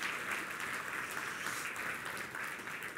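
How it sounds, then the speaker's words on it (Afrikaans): A church congregation applauds the morning's pancake bakers with steady, full clapping that fills the room for the whole stretch, with no talking over it. "En nou kan ek sommer net vra dat ons lekker hande klap vir al die mense wat pannekoek gebak het vanoggend."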